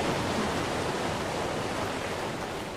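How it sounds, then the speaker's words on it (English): Steady broadband rush of a waterfall in the Ark Survival Evolved video game, explored near a ruin; a constant, dense roar of falling water with no breaks and no voices. "This is a pretty shit waterfall."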